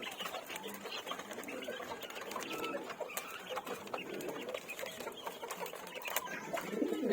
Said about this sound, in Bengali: এখানে আমার কিছু কোচিং মুরগির বাচ্চা আছে